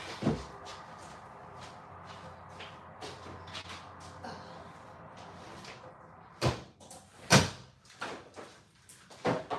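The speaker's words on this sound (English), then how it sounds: "Let me close this window." A window is shut from inside against loud outdoor noise, bringing a low rumble of sliding and shuffling and then several sharp knocks and thuds near the end, close by with no talking.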